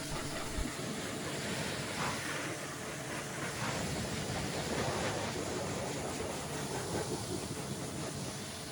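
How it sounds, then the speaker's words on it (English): A jet wash sprays water steadily into the engine bay of a Vauxhall Astra SRI, a continuous broad hiss and rush at moderate level throughout with no speech. "always keep the jet wash moving"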